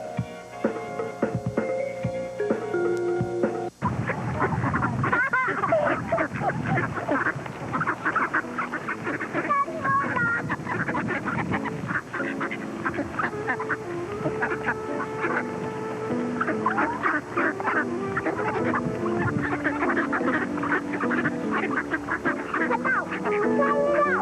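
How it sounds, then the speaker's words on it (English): A flock of waterfowl quacks and honks continuously, loud and close, with overlapping calls and splashy background noise. "Can we feed the ducks, Daddy?"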